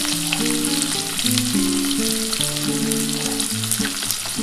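A spoonful of whole cumin seeds and onion fry in oil for a dhaba-style chicken curry masala. The loud, steady sizzle is broken by light stirring, with background music playing throughout.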